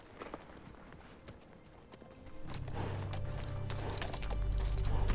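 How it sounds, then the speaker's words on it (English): Horse hooves clip-clop at a steady walking rhythm, growing louder and closer over a few seconds alongside a low rumbling background, with no talk over them. "Or just a horse."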